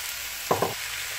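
Half a kilogram of minced meat drops into a pan of butter and golden-fried onion, giving a short, sharp double burst of sizzle over a steady, quiet frying hiss.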